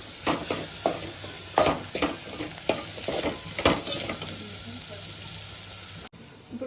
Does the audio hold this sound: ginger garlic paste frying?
yes